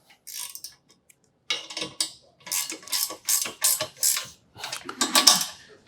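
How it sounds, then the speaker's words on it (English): A 9/16 ratchet tightens U-bolt nuts on a urinal carrier, giving bursts of quick, close clicking strokes separated by short pauses. "9/16 ratchet"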